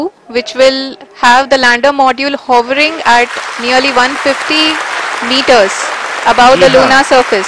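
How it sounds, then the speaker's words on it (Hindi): Scientists in mission control clapping during the Chandrayaan-3 lunar landing, a scattered applause mostly buried beneath a loud, continuous narration and commentary voice. "जी हाँ, आप इस तालियों के गड़गड़ाहट को सुन सकते हैं,"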